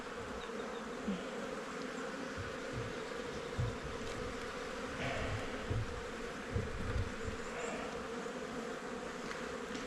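Honeybees buzz steadily around an open hive in a winter apiary, a dense continuous hum with occasional close passes and faint handling knocks.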